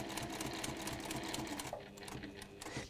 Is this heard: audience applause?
no